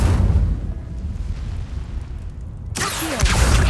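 The Incendio fire spell cast in Hogwarts Legacy, a steady roaring whoosh of flame that runs loud and continuous before ending in a sharp burst near the end.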